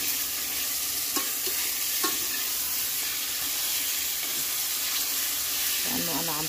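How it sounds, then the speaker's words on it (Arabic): Chicken pieces sizzle steadily in a pan for chicken vol-au-vent filling, with a few scraping stirs and utensil knocks over a constant loud frying hiss, close up and without talk. "هلأ بنبلش نحركهم طبعا"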